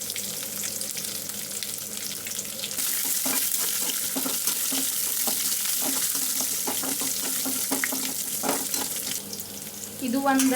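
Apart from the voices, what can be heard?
frying dry red chilies, chana dal and garlic in oil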